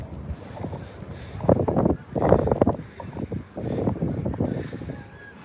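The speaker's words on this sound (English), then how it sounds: "Sorry about the wind noise if you guys hear wind out there." Gusty wind buffets the microphone outdoors by the water at Coney Island, coming in uneven rumbling surges with brief lulls between them.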